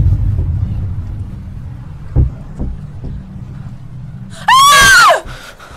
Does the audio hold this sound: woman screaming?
yes